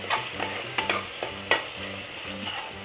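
Masala for a spicy moong dal aamti stirred and sautéed in a pan, a steady sizzle broken by repeated scraping strokes of a spoon against the pan, close and moderately loud with no talk.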